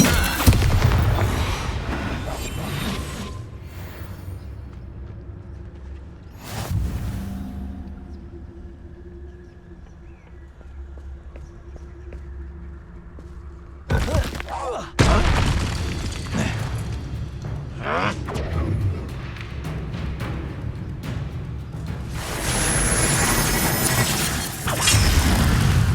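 Confringo fire-blast spell explosions in Hogwarts Legacy combat, loud booming and crashing bursts near 0, 7, 14 and 15 seconds over a rumbling game soundscape, with busy clattering action toward the end.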